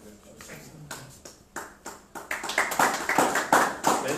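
An audience applauds, beginning with a few scattered claps that quickly swell into steady, denser clapping from a crowd at a talk on energy reserves, with voices underneath.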